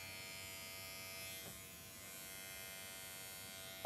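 Electric clippers shave a head with a faint, steady buzzing hum, close but quiet, ending in a sudden loud burst.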